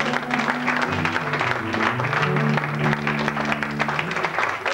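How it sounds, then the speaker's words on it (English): Radio studio audience applauding in a sustained burst of clapping, close and loud, with some tonal hum or music underneath throughout. "Round of applause for that."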